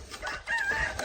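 A rooster on an off-grid homestead crows once, a clear, close, rising call that fills the whole short moment.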